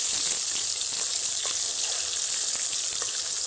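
Koi fish frying in a small amount of oil, a continuous close, dense sizzle and crackle with faint spatter pops, holding steady throughout with no voices.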